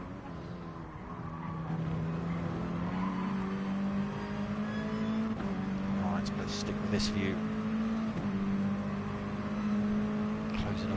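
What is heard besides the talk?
Mini Cooper race cars racing at Autopolis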